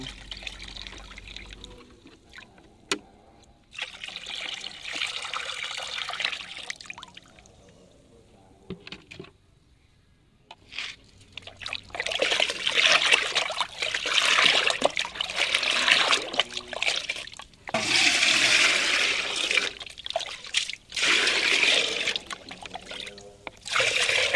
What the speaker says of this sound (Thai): เราก็เตรียมน้ำไว้ 5 ลิตรนะคะเราไปใช้ ส่วนผสมทั้งหมดเทลงไปให้หมดเลยค่ะ